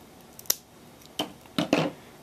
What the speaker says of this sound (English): we're going to cut those off at the joint